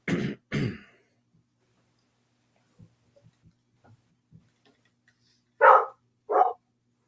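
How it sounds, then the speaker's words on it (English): A young puppy gives two short, sharp barks near the start, then faint whimpers and scratching noises, and finally two louder yelps close by near the end, with quiet gaps between them. "My puppy dog missed me."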